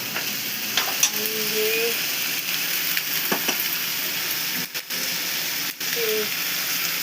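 Everyday masala spice mix tipped into hot oil in a frying pan: a steady, close, loud sizzle and hiss throughout, with a brief spoken phrase and a couple of short clinks.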